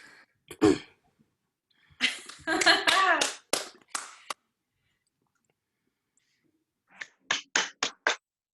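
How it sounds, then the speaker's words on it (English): On a video call after a play reading, a few participants clap in short scattered bursts through laptop microphones, interspersed with a burst of speech-like noise and silent gaps, ending in a quick run of individual claps. "feel free to unmute yourself and clap"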